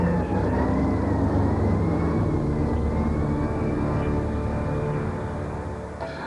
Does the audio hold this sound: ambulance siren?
yes